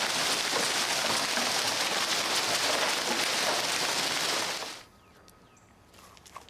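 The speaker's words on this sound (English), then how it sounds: "Hail one time, golf ball size, the great big stuff" Dense, steady hiss of golf-ball-size hail pelting down on a backyard garden railroad for several seconds, then cutting off abruptly to near quiet with a few faint scattered ticks.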